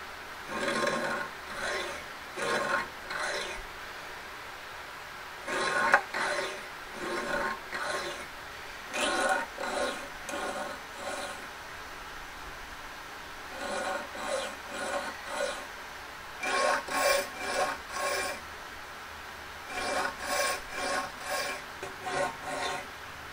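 A file rasps across the teeth of an inexpensive dovetail saw in short groups of light, rhythmic strokes, close and clear, with brief pauses between each set.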